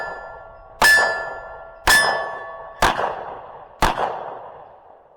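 Four pistol shots ring off a steel target at about one-second intervals, each a sharp crack followed by a bright metallic clang that slowly decays, heard at a distance with no talk.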